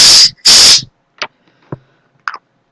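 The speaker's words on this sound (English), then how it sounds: "I'm going to spray it one more time because it's so loud." Two loud, sharp hissing bursts from a Stop That dog spray can, each about a third of a second, close to the mic, followed by faint clicks and small handling noises.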